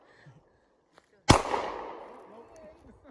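A single firearm shot at an off-the-grid camping site, sharp and loud, followed by a decaying rumble and echo that lasts more than a second, with faint voices before and after.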